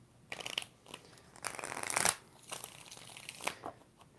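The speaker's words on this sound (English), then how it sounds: "let's get 5 shuffles" Papery riffling and snapping of a deck of tarot cards being shuffled in several quick bursts, close and fairly quiet, with no talking.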